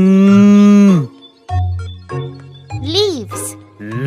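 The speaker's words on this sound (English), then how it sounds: "Cow." A cow lets out a long, loud moo at close range, followed by shorter lowing sounds mixed with a voice and a light jingle.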